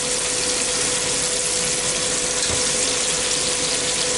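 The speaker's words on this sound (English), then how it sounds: "It's starting to sizzle real good." Food frying in a Ninja Foodi, a steady dense sizzle with a faint hum underneath, continuous and fairly loud with no talking.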